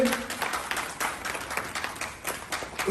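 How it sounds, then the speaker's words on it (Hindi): Seminar audience clapping in a hall, a dense burst of many hands applauding continuously, moderately loud and close, swelling and easing over a few seconds. "प्लीज एक बार जोरदार तालियां आप सभी के लिए"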